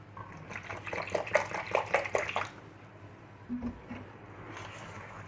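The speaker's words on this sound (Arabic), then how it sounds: "نزود ميه كل ما نحتاج." Water pours into a flour mixture for Egyptian bouza, a short splashing stream close by that stops partway, leaving a quiet room with faint clinks.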